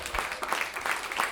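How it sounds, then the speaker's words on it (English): Audience applause at a stand-up comedy show, a steady wash of clapping from the crowd that holds fairly even across the short stretch without any talk over it. "just give an applause for yourself for coming out tonight"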